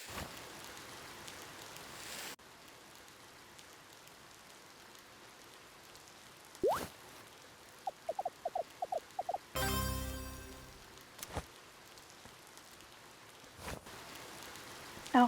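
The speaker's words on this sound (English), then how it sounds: "Oh, it's raining now." Soft, steady rain hisses throughout a scene in the game Cattails: Wildwood Story, punctuated by brief clicks, a chirping sequence, and a buzzing burst, with no voices.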